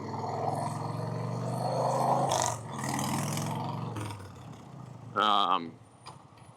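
A 1990 Harley-Davidson Fatboy with an S&S Super E carburetor rumbles as it turns into a gas station, its engine loud and close, with a brief louder rev near the end; a voice talks over the engine.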